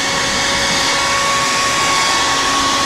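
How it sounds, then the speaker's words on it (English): A hair dryer blows with a loud, steady whooshing hum throughout, close and unchanging. "Hair dryer."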